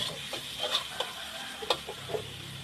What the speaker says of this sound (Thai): ผัดหอมหัวใหญ่ให้สุกก่อนแล้วค่อยใส่ใบกะเพรา